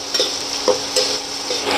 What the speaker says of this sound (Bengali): একটু ভাজা ভাজা হতে থাকে।